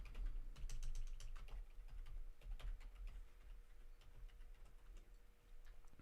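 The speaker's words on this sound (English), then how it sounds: "Let me type in this password." Fingers tap a password on a computer keyboard in quick, light clicks. The bursts of keystrokes come close up and faint, with short pauses between them and no talking.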